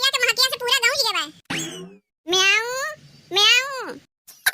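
A person imitates a cat, giving several loud, drawn-out meows in a row close up, with short gaps and a sharp knock between them.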